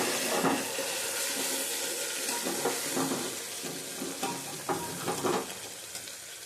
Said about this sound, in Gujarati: આપણે આદુ મરચાંની પેસ્ટ નાખીશું હવે આપણે આને થોડું સાંકળી લઈએ